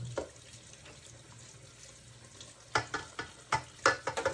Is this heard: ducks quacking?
no